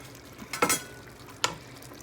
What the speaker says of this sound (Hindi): चले हम ऐसे करते हैं कि हम सब्ज़ मिर्चियाँ अभी डालेंगे